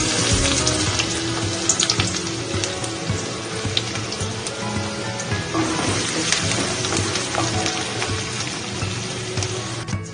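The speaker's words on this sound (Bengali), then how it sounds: "সিদ্ধ হয়ে গেছে, এবার জলটা ঝরিয়ে নেব" Water from boiled noodles pours off into a sink, a loud, steady gushing and splashing that continues for about ten seconds with small clanks of the pot.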